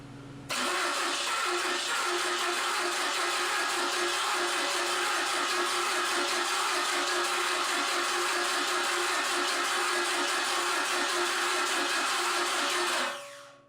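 A Kubota V2203 diesel engine, worn and awaiting rebuild, cranks and fires up quickly, then runs with a loud, steady, rough drone close by before shutting off abruptly.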